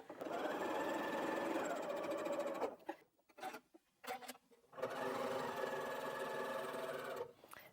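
A sewing machine stitches patchwork pieces in a steady, fast whirring run, pauses briefly with a few clicks and handling noises, then resumes the same close, continuous hum.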